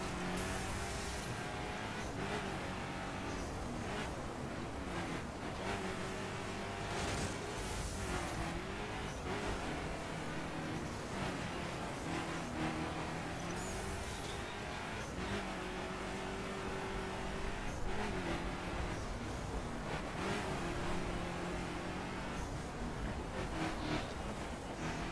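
A diesel car accelerating and revving in The Crew, a steady, loud engine drone that rises and falls in pitch through repeated gear changes, with tyre and road noise underneath for the whole stretch.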